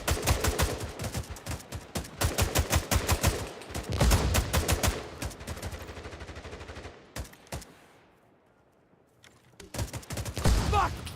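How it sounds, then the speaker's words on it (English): Creeping artillery barrage and gunfire in the tactical Cold War shooter game '83: dense, loud bursts of rapid shots and blasts, a brief lull, then renewed heavy firing. "Creeping barrage is incoming."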